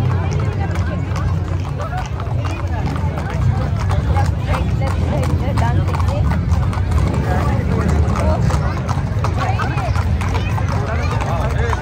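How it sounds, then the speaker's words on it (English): Horses' hooves clip-clop steadily and continuously at a Fourth of July parade in Seattle, loud and close, with crowd babble throughout and occasional whinnies. "How the horses are dancing, Nadia?"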